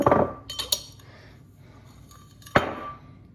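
A spoon clinks against a small teacup while sugar is added, a few quick bright taps early on, then quiet, then one sharp clink near the end, close and clear with no talk.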